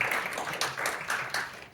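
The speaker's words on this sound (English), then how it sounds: "I just feel like clapping at that one." A small audience clapping after a talk, a brief patter of hand claps with distinct individual bursts, close and moderately loud.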